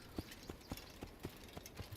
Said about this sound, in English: the horse will kind of trot away